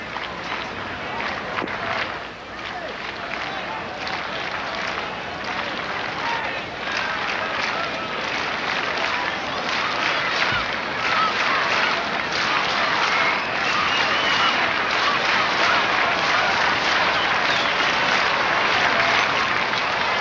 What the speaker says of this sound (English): The fans in the stands here in the next to last day of the season applauding rhythmically